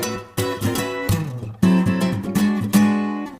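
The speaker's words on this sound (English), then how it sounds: "I downloaded the 266 acoustic guitar loops." Acoustic guitar loop sample at 85 BPM, close and clean strummed chords in distinct rhythmic bursts with ringing sustain between strums, played alone without voices.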